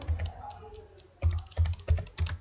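Typing on a computer keyboard during a hands-on computer lesson, entering a file name: a few clustered bursts of key clicks, close and fairly loud, separated by short pauses, with no talking.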